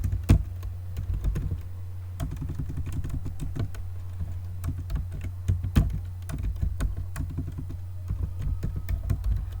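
A command typed on a computer keyboard, close clicky keystrokes in quick irregular bursts with brief pauses, over a low steady hum.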